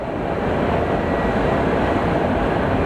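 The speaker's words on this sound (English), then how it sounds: "we do have Air Canada's Dreamliner" An Air Canada Boeing 787 Dreamliner at an airport, heard as a steady, broad roar of jet engine noise at an even level throughout, with no voices over it.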